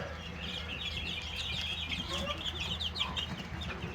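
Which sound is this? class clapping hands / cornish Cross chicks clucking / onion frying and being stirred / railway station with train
cornish Cross chicks clucking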